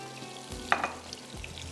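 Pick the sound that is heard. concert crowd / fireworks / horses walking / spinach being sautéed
spinach being sautéed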